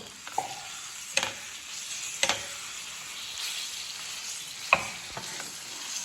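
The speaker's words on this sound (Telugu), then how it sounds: "ఎస్ ఇప్పుడు మనం దీనిలోకి చికెన్ వేసేసుకుందాం" Chicken pieces tossed into a pan of masala and stirred, with a steady background sizzle and several sharp scraping clinks of the spoon against the pan, no voices.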